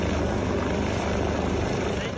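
Rescue helicopter hovering near a cable car stranded high above a valley in northwest Pakistan, a loud steady rotor and engine roar filling the clip with speech mixed underneath.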